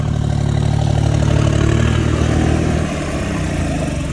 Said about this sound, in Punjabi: ਆਹ ਟਰੈਕਟਰ ਚਲਾਉਣ ਲੱਗਾ ਆ ਤਵੀਆਂ ਵਾਲਾ